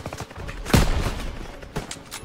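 Gunfire bursts in the Call of Duty WWII campaign: a loud close blast followed by rattling fire and a second, smaller burst, with battle noise throughout.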